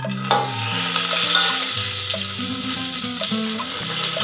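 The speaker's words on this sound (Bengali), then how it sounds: "তেলটা সরষের তেল বসিয়েছি, তেল গরম হয়ে গেছে, এই গোটা মশলাগুলো আমি দিয়ে দেবো।" Whole spices (black pepper, bay leaf, garam masala) hitting hot mustard oil in a pan, giving a steady close sizzle with crackling bursts and light stirring, with music playing underneath.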